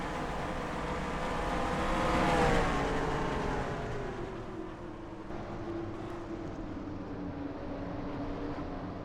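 Stock cars race around Martinsville Speedway in the NASCAR Racing 2003 video game, engines droning and revving in a dense pack, swelling to a loud peak near the middle before settling into a continuous roar, with no talk.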